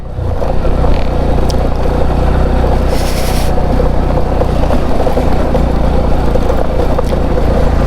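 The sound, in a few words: motorcycle ridden standing on a gravel off-road track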